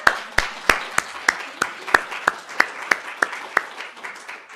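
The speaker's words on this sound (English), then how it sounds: "Round of applause, please." Steady rhythmic clapping from a small group applauding at a talk, sharp regular beats repeating about three times a second, close and clear.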